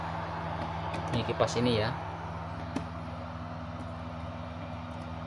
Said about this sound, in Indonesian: Ini adalah bunyi kipas